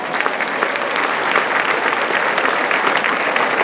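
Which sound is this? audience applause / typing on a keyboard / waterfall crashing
audience applause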